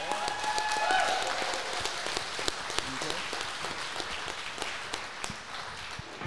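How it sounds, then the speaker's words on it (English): Audience applause for professional drivers at a 2024 driver fitness challenge event, steady clapping throughout with a voice briefly heard over it near the start. "Let's give them a round of applause."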